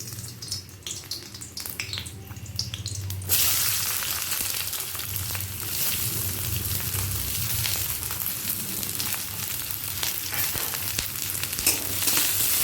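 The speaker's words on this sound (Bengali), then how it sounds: "হালকা লাল করে ভেজে নেব" Thick-cut onion slices frying in a hot pan for a Bengali ridge gourd and poppy seed dish, a soft hiss that jumps to a loud, dense, continuous sizzle after a few seconds and stays close and steady.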